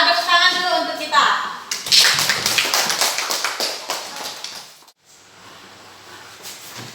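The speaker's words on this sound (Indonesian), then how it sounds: "Tepuk tangan dulu untuk kita" A classroom of students bursts into quick, close clapping after a voice speaks, the uneven patter of many hands fading over a few seconds before a short hush and faint room noise.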